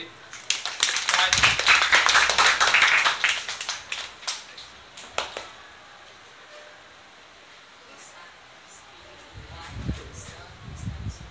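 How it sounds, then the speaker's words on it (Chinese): A classroom of students breaks into a dense burst of clapping for a classmate who has just worked a problem at the front; the applause is loud for about three seconds, then thins to scattered claps and quiet room noise. "好，来，掌声鼓励。"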